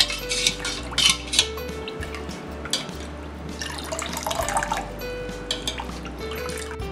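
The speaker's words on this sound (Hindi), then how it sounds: "अब हम इसमें ठंडा पानी डालेंगे। और इसे मिक्स कर लेंगे।" Cold water poured into strained kokum drink and stirred, with liquid splashing, clinking against the vessel and light dripping over several seconds of steady kitchen sound.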